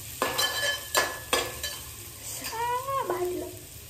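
Vegetable phodni tempering in a home kitchen pan, several sharp stirring scrapes followed by bursts of sizzle and a brief squeaky scrape near the end, close up with no talk.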